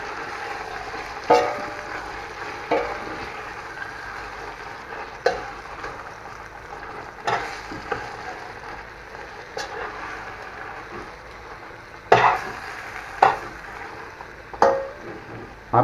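Chicken frying in a large pot for red chicken kabsa, with a steady low sizzle broken by occasional sharp scrapes and clanks as it is stirred, close and without talk.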